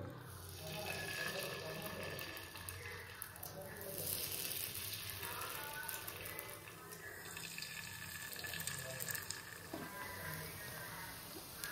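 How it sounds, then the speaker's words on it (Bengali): Chicken pieces coated in cornflour fry in oil in a frying pan, making a continuous close hissing sizzle that holds steady throughout while someone talks over it. "আর এই যে দেখো চিকেনগুলো ভাজা হচ্ছে, একটু লাল লাল করেই ভাজবো"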